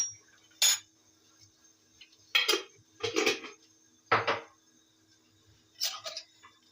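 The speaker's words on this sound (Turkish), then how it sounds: "Şöyle 3 yemek kaşığı tarhanamı alıyorum kaseme" Three tablespoons of tarhana spooned into a bowl, with a handful of separate clinks and scrapes of a metal spoon against the dish, quiet and close, spaced irregularly with silence between.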